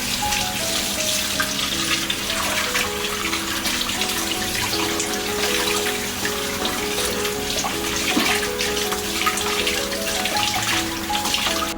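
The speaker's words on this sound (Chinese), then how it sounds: "把杀好的鱼清洗干净，重点是鱼腹内部的血。" Running tap water splashes steadily over a gutted sea bass as it is rinsed in a kitchen sink, a continuous close hiss and patter lasting throughout, with no talk.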